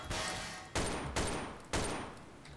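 Gunfire in the video game Garry's Mod during a base attack: three loud, sharp blasts spaced under a second apart, each with a decaying tail, with no talk over them.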